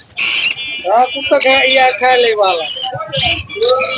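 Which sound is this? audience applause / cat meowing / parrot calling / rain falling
parrot calling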